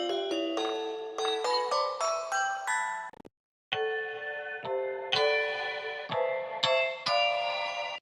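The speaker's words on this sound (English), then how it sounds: "So let's go through some bell sounds," A series of bright bell tones from an Excite Audio Evolve Alloy synth rings out one after another, with a brief silent gap midway before the chimes resume.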